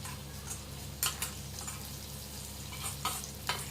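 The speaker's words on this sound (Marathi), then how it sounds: "ही फोडणी आपण आता ह्या चटकीच्या मिश्रणात घालून घेणार आहोत" Hot tempering poured into a chutney mixture gives a steady low sizzle with a few sharp crackling bursts as the spices hit the mix, close and moderately loud.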